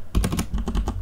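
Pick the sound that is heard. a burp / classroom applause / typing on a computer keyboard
typing on a computer keyboard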